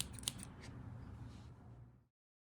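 Scissors snip through felt pieces cut from a template, a few quick close cuts lasting about two seconds before silence.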